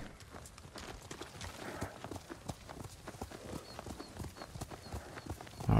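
Horse hoofbeats in the video game Ghost of Tsushima clip-clop in a quick, steady rhythm throughout, fairly close and clear, ending with a louder burst of noise.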